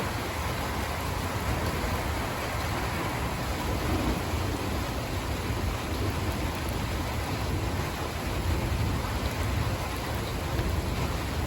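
Dense, steady rainfall from a supercell thunderstorm hisses evenly throughout, with a low rumbling undertone like distant thunder.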